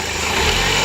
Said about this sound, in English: that's my blow-off plate coming off. That's what you hear.